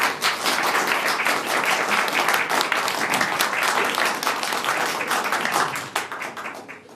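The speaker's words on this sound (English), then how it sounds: "There was clapping and cheering and stuff" Audience at a town meeting breaks into sustained, dense applause, close and loud, holding steady for several seconds before thinning out near the end; cheering is not distinct within the clapping.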